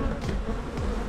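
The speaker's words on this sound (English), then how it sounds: "Maybe not as many bees as the last colony" Honey bees buzz steadily and close during a spring hive inspection, a dense continuous drone with wingbeat tones rising and falling as individual bees pass near, with no talking.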